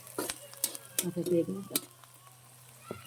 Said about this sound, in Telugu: వేగిపోయినాయండి ఉల్లిగడ్డలు మంచిగా ఎర్రగా వేగినాయి